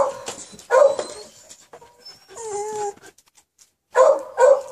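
Rescued puppies give high whimpers and yips, with short bursts of louder barking at the start and end, close by, broken by brief quiet gaps.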